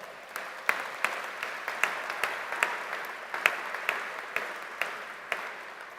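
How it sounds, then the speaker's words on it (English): Sparse, scattered clapping at a university commencement ceremony, a few distinct hand claps popping out over a thin, fairly quiet round of applause in a large hall. "Let's give them all a round of applause."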